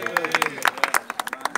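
Guests at a teacher–disciple ceremony in Jeddah clap in sharp, distinct hand claps, a fairly close, irregular patter that spreads from a few hands, and a faint tonal sound lingers underneath.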